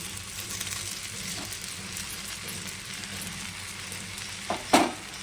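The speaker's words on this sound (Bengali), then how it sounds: "এবার আমি আলু পেঁয়াজ কাঁচা লঙ্কা ভাজাটা দিয়ে দেবো" Steady sizzling and scraping of chow mein with potato, onion and green chilli being stir-fried in a pan, with a couple of sharp clanks near the end; no voices.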